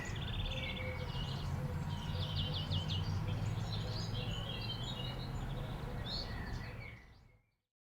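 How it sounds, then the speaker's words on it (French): Birds singing in a forest: several chirping, trilling calls high above a steady low ambient rumble, moderately near, continuing until everything cuts to silence at the end. "d'entendre l'oiseau qui chante"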